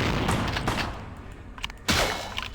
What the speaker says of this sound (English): I shot him in the crotch!